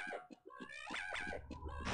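Cat meows in the Half-Life video game, several short repeated calls in quick succession, fairly loud and close, with busy game sound around them.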